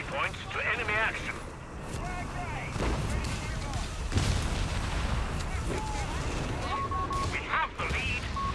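Artillery in a Company of Heroes 3 2v2 battle, US and UK forces against Wehrmacht: repeated heavy booms and crackling gunfire over a dense battlefield din, with a voice talking over it.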